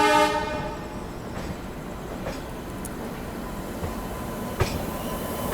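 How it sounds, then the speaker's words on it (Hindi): Bihar Sampark Kranti superfast express departing Kanpur Central behind a WAP-7 electric locomotive: a horn blast at the start, then a steady rumbling roll of the train with wheel clatter, a few sharp clanks and brief squeals, moderately close. "यहाँ पे सामने से किसी ट्रेन का डिपार्चर हुआ है सेंट्रल से"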